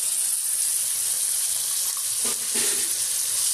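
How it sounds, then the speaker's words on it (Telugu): Ginger paste fries in a hot pan for a Telugu-style mutton tomato curry, with a loud, bright, continuous sizzle, close up and brief, and a few soft stirring sounds midway. "ఇప్పుడు ఇందులో అల్లం పేస్ట్ వేసుకుంటామండి"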